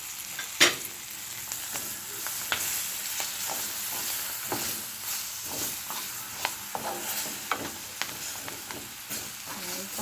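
Garlic, onion and scallion fry in hot oil in a pan with a continuous close sizzle, broken by a few sharper crackles and light clatters as they go in and are moved around.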